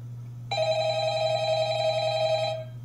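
A telephone rings in the Undertale fan game Nightshift for Papyrus, one continuous electronic ring of about two seconds over a low steady hum, clear and alone.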